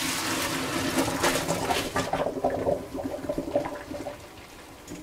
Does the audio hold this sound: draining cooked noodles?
yes